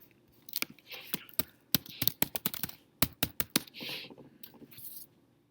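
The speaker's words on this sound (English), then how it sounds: "can't type and talk at the same time" Quiet computer keyboard typing: a run of sharp, irregular key clicks, close by and fairly soft, with brief pauses and a low hum underneath.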